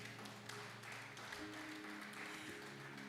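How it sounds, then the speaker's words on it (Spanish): A church congregation claps during a sermon, a quiet, even spread of applause over a low sustained musical tone, continuing unbroken throughout. "Denle un aplauso al Señor."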